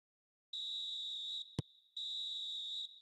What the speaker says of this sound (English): And there is the half-time whistle.